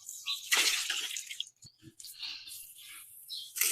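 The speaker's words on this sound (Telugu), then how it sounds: "ఇక్కడ వాటర్ అన్ని పోతున్నాయి." Water leaks from a pipe, heard as close, irregular hissing spurts and splashes that stop and start, with a few brief drips between louder gushes.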